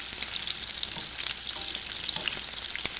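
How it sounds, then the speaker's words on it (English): Pearl onions sear in a hot pan with a steady bright sizzle and occasional pops and crackles, close and alone. "we're going to sear up some pearl onions"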